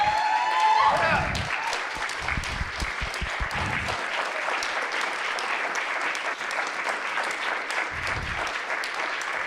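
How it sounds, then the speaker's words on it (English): An event crowd stands and claps in a sustained, dense burst of applause that fills the whole stretch, with low thumps and a few voices mixed in near the start and end. "could we stand up and give a round of applause for the young people that's doing this work?"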